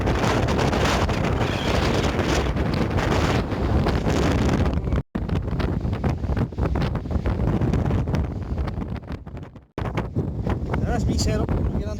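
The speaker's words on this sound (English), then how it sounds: "I can see it, but it's very windy." Strong gusts batter the microphone at a wild campsite on Eagles Rock near Mullaghmore, Ireland, a loud continuous roar with only two brief lulls.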